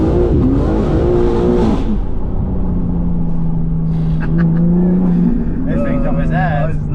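A tuned BMW G80 M3, rear-wheel drive with a Velocity stage 2 upgrade making 721 hp, revs hard and accelerates, its loud engine note climbing and dropping through shifts while a voice talks over it.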